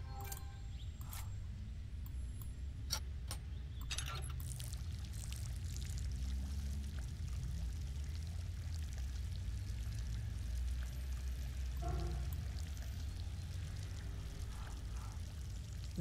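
Water pouring in the Hidden Expedition: The Eternal Emperor puzzle game, a steady continuous flowing gush that runs throughout at moderate level, with a few brief clicks from the game interface.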